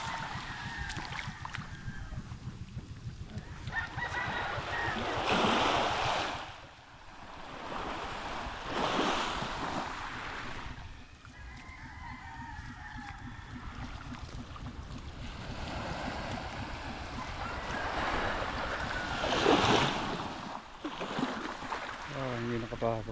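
Ocean waves at high tide roll in steadily with repeated surges of surf and wind noise, while voices talk over the wash.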